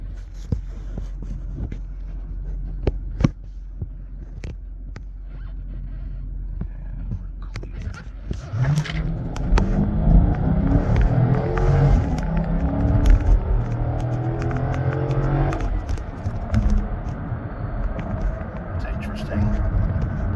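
A car launching from 0 to 60 in race mode with a Roar pedal throttle response controller, on a cold day with traction control off: a quiet idle, then a loud rising engine roar and rumble that holds for about ten seconds, with faint voices.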